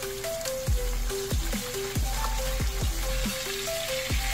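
Milkfish (bangus) sizzling and frying in melted butter in a pan, a steady crackling hiss with repeated low thumps from handling or turning the fish, close and continuous.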